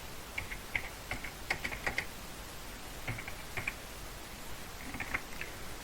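Keystrokes on a computer keyboard while entering code for a school programming lesson, coming in quick irregular bursts of clicks with short pauses between, close and fairly quiet with no talking.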